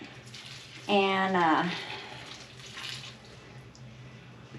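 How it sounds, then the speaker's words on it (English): Water poured into potting soil for planting potatoes in a bag: a soft, continuous hissing splash under a brief moment of speech, fading slightly toward the end. "But I'm still going to put a little water in it to kind of hold it together."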